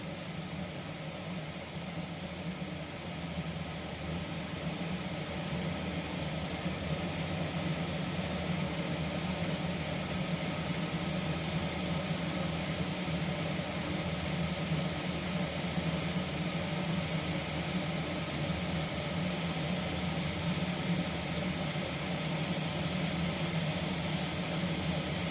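A pressure cooker cooking meat hisses steam in a steady, loud, continuous rush with a faint low rumble beneath, heard close and without any talking.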